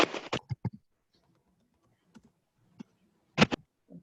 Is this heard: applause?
no